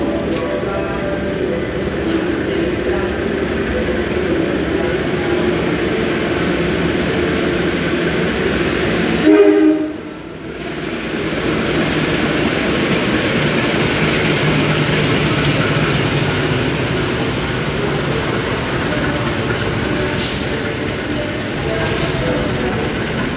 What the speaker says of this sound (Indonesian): Jalur 1 bakal masuk kereta api komuter line penataran.